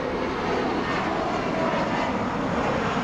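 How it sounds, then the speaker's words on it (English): An American Airlines Airbus A319 lifts off at Los Angeles International Airport, its engines a steady broad roar heard from a distance, continuous and fairly loud with no speech. "That's a little A319 lifting off in the distance."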